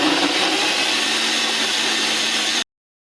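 A blender whirs steadily, blending kumquat juice with salt for chilli cherry jam, a constant dense motor roar that cuts off abruptly after under three seconds.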